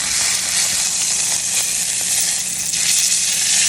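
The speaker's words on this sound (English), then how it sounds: "Now to get that good crust on there, don't touch it. Just let it sear." Pork steak sears hard in a hot pan, a loud, dense sizzle that holds steady and close the whole time, with no one talking.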